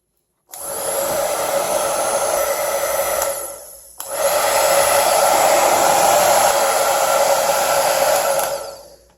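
A Vaslon 1875W infrared ionic hair dryer blows on its cold setting in a loud, steady whoosh. It cuts out briefly partway through, then starts again and runs at full strength before stopping near the end.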